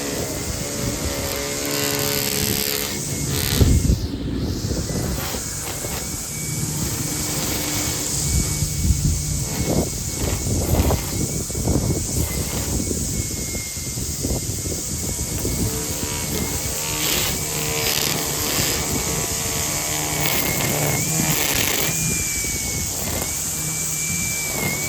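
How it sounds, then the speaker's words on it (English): Kobalt battery-powered string trimmer cutting grass, a continuous high electric whine with rough whipping and swishing from the line, loud and close, steady across the whole stretch without talk. "I'll try trimming with it instead of edging and see if that does any better."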